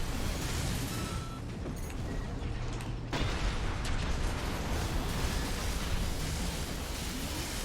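Mech weapons firing in the video game Armored Core VI Fires of Rubicon, a dense, continuous roar of blasts and mechanical noise with a sharp crack near the middle, steady and loud throughout.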